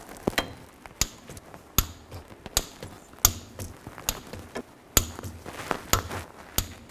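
Torque wrench tightening axle bolts on a 2000-2006 Chevy Tahoe rear axle in a crisscross pattern, about a dozen sharp metallic clicks and knocks at an uneven pace, close up with no talk.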